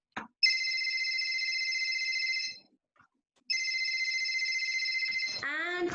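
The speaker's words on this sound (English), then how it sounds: "My phone, which makes this sound." A mobile phone ringtone plays as a steady electronic tone, stops for about a second, then sounds again and runs into a rising melodic trill at the end, loud and with no voices.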